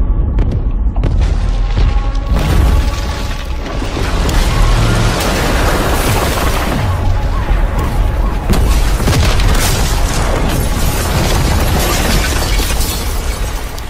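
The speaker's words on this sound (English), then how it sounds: "Got reports of multiple explosions in Verdansk." Heavy explosions rip through Verdansk in a Call of Duty Black Ops cutscene, deep booming blasts with crackling debris and shattering, rolling on loudly and continuously for several seconds.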